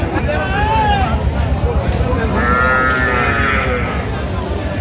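Young bull calves at a crowded cattle market low and moo in drawn-out calls, one early and another longer one later, amid a loud din of chatter and people talking nearby.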